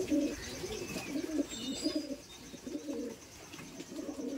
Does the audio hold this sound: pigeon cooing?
yes